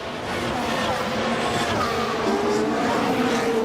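Formula 1 car racing at the Las Vegas Grand Prix, its engine a steady loud drone with pitch sweeping as it passes, heard under a commentator talking throughout.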